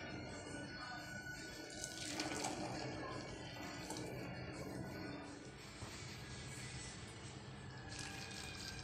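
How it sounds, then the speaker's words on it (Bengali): Boiled tea being strained and poured into a cup, giving a steady close trickle and splash of liquid with a brief louder gush partway through, no talk over it. "চাটাকে এবার একটু ছেঁকে নিচ্ছি।"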